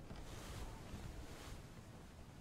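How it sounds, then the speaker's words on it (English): Ocean waves wash continuously around a boat in a mystery puzzle video game, a soft, even surf-and-wind ambience with gentle swells and no voices. "I like the ambient noise of the waves."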